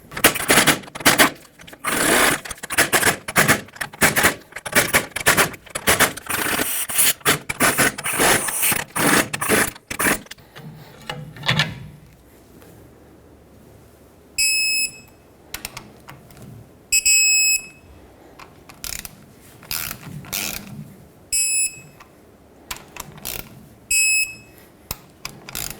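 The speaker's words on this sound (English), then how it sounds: "so I'm going to loosen them up, torque them, and then additional 90 degrees after that" Wrench work on the rear hub bolts of a 2011-2016 Ford F-350, with rapid metallic ratcheting clicks in a dense run at first, then sparser bursts of clicking separated by pauses, with a few sharp high tool chirps.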